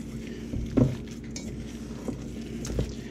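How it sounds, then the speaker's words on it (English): Hands mixing American-style meatloaf ingredients in a bowl, giving soft squelching pats and an occasional clink against the bowl, fairly quiet and close. "Just mix it until it's all incorporated together well."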